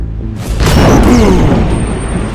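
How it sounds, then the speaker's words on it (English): A single loud boom of an explosion sound effect, a sudden blast with a rushing sweep that decays over about two seconds. "An explosion of light landed in the middle of my room, cutting off the transmission."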